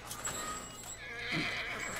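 A horse whinnies in the video game The Last of Us Part II, a single clear neigh rising over steady background ambience with faint hoof sounds.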